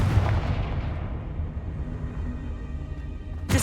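Confringo fire spell blast in Hogwarts Legacy on PS5: a loud booming burst at the start that rumbles and decays over a few seconds, followed by a sharp new crack at the end.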